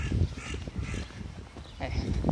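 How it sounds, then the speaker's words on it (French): A crow-cawing sound effect plays for a streamer's crow avatar, giving several harsh, close caws in short bursts with brief gaps between them. "Mon corbeau qui me dit, mon avatar corbeau qui me dit tout à fait d'accord avec toi, Adria."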